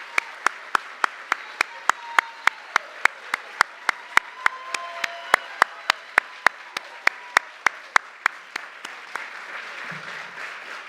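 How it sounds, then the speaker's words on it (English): Graduates and guests at a youth career program graduation clap in unison, a steady train of crisp, evenly timed claps over a background of scattered applause that fades out toward the end. "I want you all to stand up and give yourself a round of applause."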